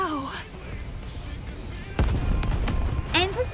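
Explosion blasts from combat in the video game NIKKE, a sharp broadband burst landing midway followed by a rumbling tail and another crack near the end, set within game music and effects.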